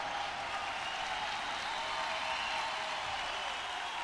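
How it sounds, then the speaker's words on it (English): Crowd applause at a Rio 2016 Paralympic women's wheelchair basketball game, a steady even wash of clapping from a large arena audience holding at constant loudness throughout. "they applaud the effort there, the crowd does."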